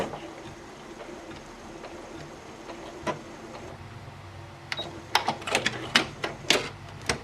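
A sewing machine works through quilt foundation piecing, starting with quiet sparse ticks and then a close burst of sharp, rapid clicking needle strokes near the end.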